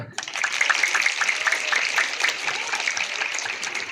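An audience at an annual school literature day claps in a loud, dense, steady burst of many hands, lasting the full few seconds with no break.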